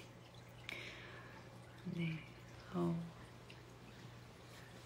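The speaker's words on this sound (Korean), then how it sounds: "고양이 정수기입니다. 물소리는." A cat water fountain trickles with a faint, steady drip and low hum in a quiet room, while a voice speaks briefly over it.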